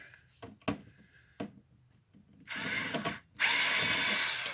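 A powered screwdriver backs screws out of an HP Officejet 8710 printer panel, with a few short ticks and clicks giving way to bursts of high, whirring motor buzz close up.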